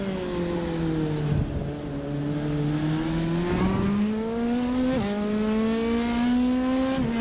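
Race cars accelerating at Circuit of the Americas in iRacing, a loud droning engine note that climbs steadily in pitch, dips sharply at gear shifts and climbs again, continuous and close without voices.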